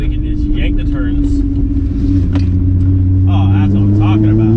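Volkswagen MK3 with a VR6 engine, heard from inside while driving: a steady loud engine drone with rising pitch as it revs, continuous rumble throughout, with faint voices at moments.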